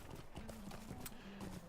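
Horse hooves clip-clop at a steady riding pace in the video game Lord of the Rings Online, a quiet rhythmic trot over a soft ambient background.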